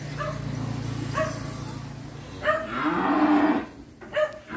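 Cattle low and moo at a breeding cattle farm in Vinh Long, with several short calls spaced through the clip and one longer, louder bellow near the end over steady farm background noise.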